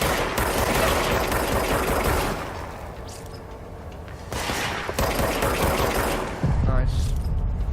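Enemy gunfire rattles in the video game Control, with dense bursts of automatic shots and a brief lull partway through. The shots are loud and close, and there is no talk over them.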